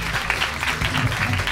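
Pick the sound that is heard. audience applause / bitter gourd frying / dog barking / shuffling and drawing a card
audience applause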